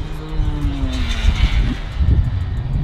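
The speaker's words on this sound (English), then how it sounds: "He is revving that shit out." A 2021 Kawasaki KX85 dirt bike engine revs hard close by, its pitch climbing and falling in loud, continuous throttle blips with no talking.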